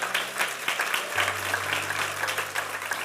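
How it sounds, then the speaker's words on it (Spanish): A church congregation claps steadily together at a moderate distance, with a low sustained organ or keyboard tone running underneath and a bit of background voice. "Dale un aplauso al Señor"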